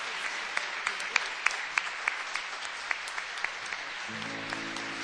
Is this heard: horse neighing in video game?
no